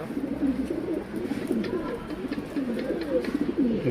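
Pigeons kept in a box, gift birds, cooing in soft, repeated throaty burbles close by, several overlapping calls rising and falling through the moment.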